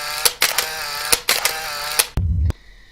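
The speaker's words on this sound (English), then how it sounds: "we have also camera snaps like this one" Camera shutter snap effects in a video editor, a series of sharp mechanical clicks in quick irregular succession, each crisp and close, followed by a brief low thump and near silence.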